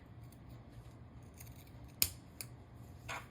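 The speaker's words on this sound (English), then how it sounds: "We're going to trim these corners." Scissors trimming the fabric corners of a sewn pillow give one sharp, crisp snip, a fainter second cut and a soft rustle of fabric in a quiet room.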